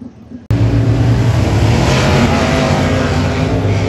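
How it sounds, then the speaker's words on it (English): Cars rolling in a dirt race track at Poplar Bluff before a Saturday night of racing, a loud, steady engine roar that kicks in abruptly and holds at full strength without a break. "So they're rolling the track in right now."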